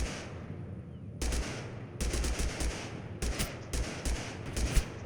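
Automatic gunfire in Totally Accurate Battlegrounds: loud, close bursts of rapid shots separated by short pauses, with sharp cracks repeating across the whole stretch.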